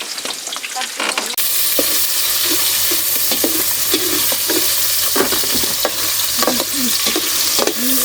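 Garlic and onion sizzling in a pan, a loud, dense frying hiss with scattered stirring clicks and scrapes, close up and steady throughout after a brief quieter start.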